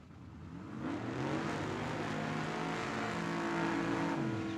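A Cons Racing Chevy Corvette drag car revs and accelerates hard at Tucson Dragway, its loud engine climbing steadily in pitch through the whole stretch, with no talk over it.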